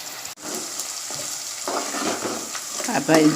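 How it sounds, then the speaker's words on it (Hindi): Soaked moong dal hits a hot pan for upma and sizzles, with crackling frying and stirring scrapes that grow louder near the end. "अब मैं इसमें मूंग डालूंगी, जो मैंने भिगो कर रखे थे मूंग की दाल, वो डालूंगी।"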